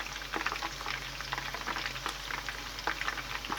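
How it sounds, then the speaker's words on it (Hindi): Chicken koftas fry in a pan with a steady close sizzle, and a spoon stirs and turns them with small scraping clicks. No one speaks. "अब इनको हम चम्मच से इस तरह हिलाते जाएंगे"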